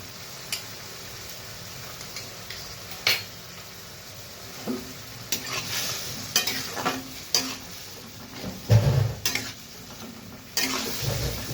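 Ghoina fish being stirred in a pan with sugar, turmeric and Kashmiri chili powder, a soft background sizzle broken by intermittent scraping and clinks of a spoon against the pan, close and fairly quiet.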